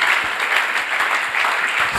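A church congregation at a Sunday service claps steadily, a dense, even wash of applause that continues throughout.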